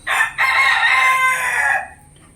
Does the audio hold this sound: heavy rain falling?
no